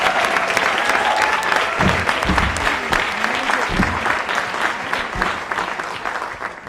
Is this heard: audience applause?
yes